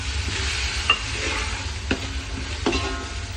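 Bhadang, a spiced Kolhapuri puffed-rice snack, being mixed with salt and lemon juice: soft scraping stirs with a few sharp clinks of a spoon against the vessel over a low background hum, no voices.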